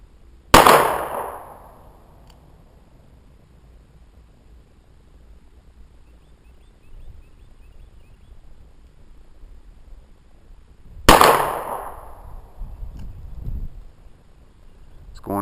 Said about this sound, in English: He's going to blast off that Dirty Harry gun.